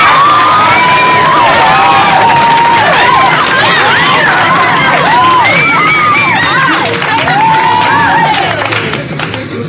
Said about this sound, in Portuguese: Palmas, muitas palmas